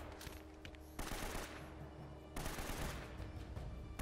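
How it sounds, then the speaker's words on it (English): Gunfire in Uncharted: Drake's Fortune on PS4: rapid machine-gun bursts and gunshots, loud and close, with two sharp surges of heavier fire over a continuous rattling background. "Where's he shooting from there?"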